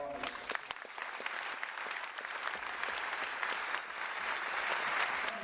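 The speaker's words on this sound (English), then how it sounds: "Ladies and gentlemen, please join me in a round of applause" A round of applause at a National Guard ceremony, with dense clapping from a large audience that holds steady throughout and a few sharp individual claps standing out near the start.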